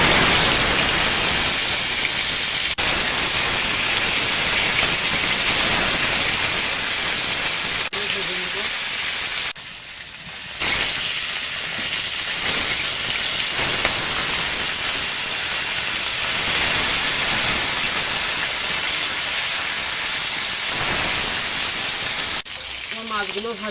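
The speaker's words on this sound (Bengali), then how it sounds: "তেলটা গরম হয়ে গেছে, এবার মাছগুলো ভেজে নেব" Fish frying in hot oil, a loud, steady broadband sizzle that hisses on for over twenty seconds with a brief dip midway.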